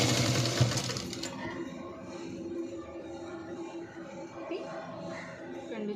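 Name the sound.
overlock sewing machine stitching a blouse lining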